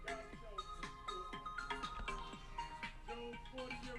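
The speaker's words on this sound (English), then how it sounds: "That's a sunrise ringtone." A sunrise-style ringtone plays from a phone, a repeating melodic chime pattern with rising tones that cycles steadily over several seconds at moderate volume, with faint background sound beneath.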